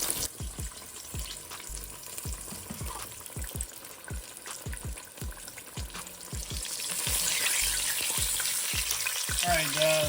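Homemade chicken fried chicken fries in hot oil with a dense, steady sizzle and close pops that grow louder and hiss more toward the end.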